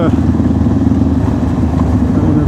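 Motorbike engines drone loudly and steadily close by, a low rumbling roar with some clatter and wind noise.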